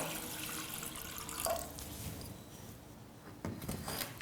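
Water poured into a pressure cooker holding cracked wheat for a sweet payasa, a steady splashing trickle throughout, close and moderately loud, with no one talking.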